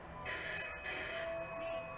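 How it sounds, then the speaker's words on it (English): A telephone bell rings steadily in a Doctor Who episode, a bright metallic trill starting after a brief quiet moment and continuing at moderate volume over faint background hiss. "It's a phone."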